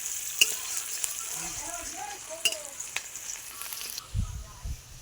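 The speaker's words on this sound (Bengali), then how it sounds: "পেঁয়াজ কুচিটা দিয়ে আমি ভালো করে আবারও নাড়াচাড়া করে ভেজে নেব" Chopped onion fries in a pan while a spoon stirs it, giving a soft steady sizzle broken by sharp scraping clicks against the pan and a few low knocks toward the end.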